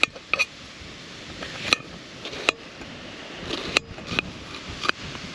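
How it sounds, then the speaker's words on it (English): A knife cutting food on a metal pan outdoors at a bushcraft campsite with no cutting board: sparse, sharp little clicks and taps at irregular intervals over a quiet background, with no talking. "So because I don't have any cutting board, I'm gonna cut everything on this pan"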